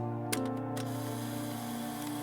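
A brief mechanical clack and a few clicks from an old instant camera, then a steady low motor whir as the film emerges, close and quiet.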